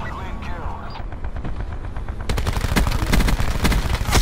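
Gunfire in the shooter Call of Duty: Black Ops 4 rings out in rapid bursts of loud, sharp shots. The shots start sparse and distant, then become a dense barrage over the second half.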